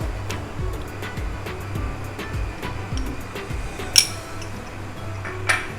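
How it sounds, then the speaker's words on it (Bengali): A utensil repeatedly knocks and clinks against a bowl while egg batter with flour, salt and pepper is mixed, a steady close rhythmic tapping with a couple of louder clinks. "সব উপকরণগুলোকে আমি খুব ভালো করে মিশিয়ে নিচ্ছি"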